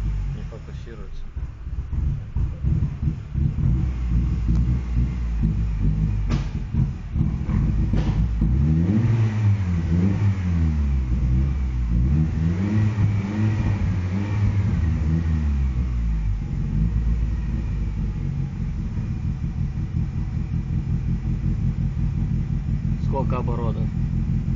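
A Honda CR-Z engine fitted with a wide-range oxygen sensor rumbles steadily and revs up and down in several swells, loud and close, with people talking over it.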